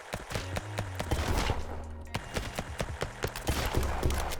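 Custom SMG in the top-down roguelike shooter Flashes of Chaos, firing in rapid bursts of sharp, punchy shots with short pauses between volleys and music playing underneath.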